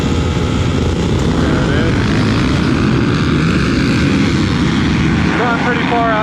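Several motocross bikes roar away together from a race start at Thunder Valley, a dense, loud engine wall sustained throughout with rising pitch sweeps near the end as riders pull away.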